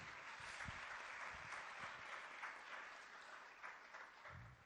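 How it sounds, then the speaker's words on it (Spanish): Audience applause at a business panel discussion on economic outlook: a steady wash of clapping from a seated crowd, fairly faint and distant, lasting several seconds without talk. "Aplauso."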